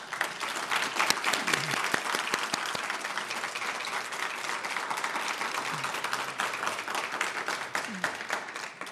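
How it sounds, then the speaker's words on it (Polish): Sustained applause from a symposium audience after its speakers, dense and even with many hands clapping at once, a few sharper claps standing out near the start. "oklaski dla wszystkich prelegentów"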